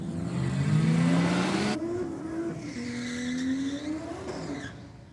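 A radial-shod Holden VL race car at full speed on a track, its engine note rising in loud sweeping pitch, dropping at a gear change, then climbing again, with a faint tire squeal and no talk.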